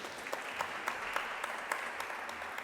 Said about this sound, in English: Again, a big round of applause for Harshal.